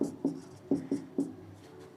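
Pen or chalk strokes while solving a math problem by hand: a handful of short scratching taps in an irregular rhythm, close and quiet with no talk.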